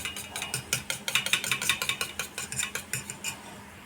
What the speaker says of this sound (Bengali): নুন আর হলুদ দিয়ে আমি সুন্দর করে এটা ফেটিয়ে নেব।